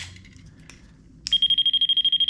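After some faint rustling, a voltage tester's high-pitched electronic beep starts up and pulses rapidly and evenly, loud and close, detecting power on a live line.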